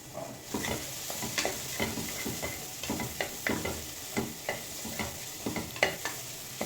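Tomatoes and curry leaves sautéing in a little oil for a mutton dish, stirred with a quick, continuous run of spatula scrapes and clatters over a low sizzle, close by with no voices.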